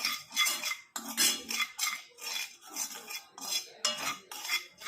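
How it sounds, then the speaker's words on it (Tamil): A mixture is stirred smoothly in a pan on the stove, with a utensil scraping and clinking against the metal in steady, repeated strokes, close and fairly clear with no talking. "கட்டிகள் இல்லாமல் இந்த மாதிரி மிக்ஸ் பண்ணி விட்டுக்கோங்க."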